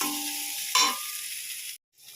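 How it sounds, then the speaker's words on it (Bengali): Ginger and green chilli frying in a pan give a steady broadband sizzle with a sharp clatter midway, then the sound cuts off briefly before a quieter sizzle resumes. "এটা ভালো করে ভাজা হোক"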